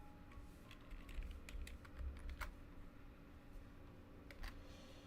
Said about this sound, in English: I'm pretty sure you guys can hear me typing.